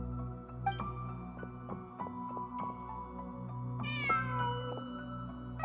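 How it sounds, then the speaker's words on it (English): A cat meows in the video game Genshin Impact, a few clear rising calls heard over a steady, layered game music backdrop with sustained tones and soft plucked notes. "Huh. Just a cat."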